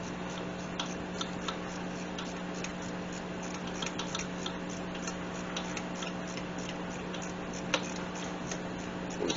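A ratchet clicks while tightening an alternator bolt on a Honda GL1500 motorcycle: quiet, closely spaced ticks in short uneven runs over a steady electrical hum, with one sharper click near the end.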